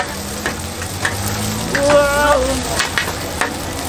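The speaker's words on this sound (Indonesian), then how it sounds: "Kita lihat cara orang Malaysia masak mie goreng sama dengan orang Indonesia" Mie goreng noodles sizzle and get stirred in a wok at a Malaysian Ramadan bazaar street stall, a loud steady frying hiss with rhythmic spatula scrapes and a faint tonal sound in the middle.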